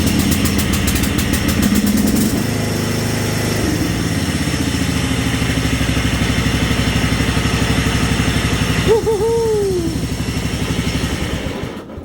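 A Mountfield 1740H hydrostatic ride-on mower engine cranks and catches, then settles into a loud, steady, close idle with a throbbing pulse, and a short rising-and-falling tone near the end.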